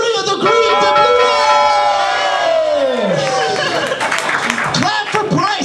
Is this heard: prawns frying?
no